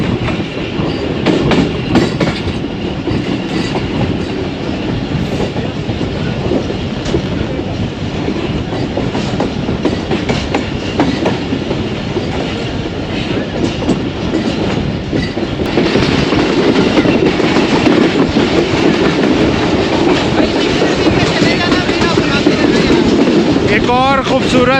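The 101UP Subk Raftar passenger train runs on the rails near Lahore, a loud, steady rumble with rhythmic clickety-clack of wheels over rail joints throughout, growing slightly heavier toward the end.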